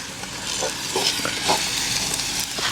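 Onions, chilli and curry leaves frying in a pan while being stirred, a continuous close sizzle with a few scraping strokes, and no one talking.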